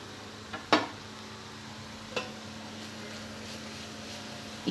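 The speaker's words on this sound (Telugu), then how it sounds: "ఈ క్యారెట్ పచ్చి వాసన పోయే వరకు బాగా నెయ్యిలో రోస్ట్ చేసుకోవాలి." Grated carrot roasts in ghee in a pan for carrot laddu, giving a soft steady sizzle broken by a few sharp scrapes and clinks of a spoon against the pan.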